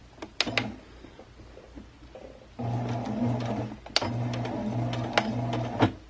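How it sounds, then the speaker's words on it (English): Domestic sewing machine stitching a quarter-inch seam along the top of a fabric face mask with a filter pocket, running in bursts of steady whirring with short pauses and sharp clicks between runs, fairly close. "sew at a 1/4 inch seam allowance all along the top, starting with the inner lining and ending with the inner lining"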